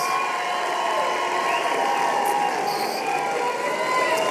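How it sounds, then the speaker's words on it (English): A graduation ceremony audience gives the graduates a dense, steady round of applause that holds at an even level from start to finish, with no voices standing out. "one more round of applause to all of our graduates"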